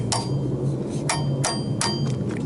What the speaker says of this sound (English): I'll just tap back and forth on this